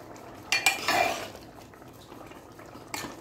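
Cooked ridge gourd sabzi is mashed and stirred in a pan, giving a few close utensil scrapes and knocks against the metal, with quiet pauses in between.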